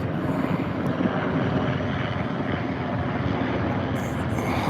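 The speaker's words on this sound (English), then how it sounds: "Don't see too many Blackhawks here." Black Hawk military helicopters pass overhead above sport fields, a loud, steady rotor and engine drone that fills the whole stretch without pause.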